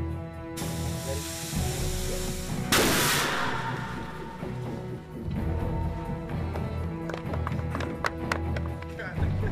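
A Jericho missile test explosion for a film set bursts loudly out of a dense rumbling background, then a long roaring wash fades under continued noise and voices.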